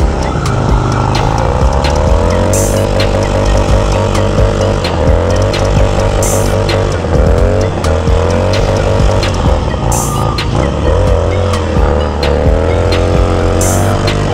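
A car engine revs and accelerates hard, a loud, close, continuous whine that climbs and falls repeatedly over about fourteen seconds, with some tire squeal mixed in.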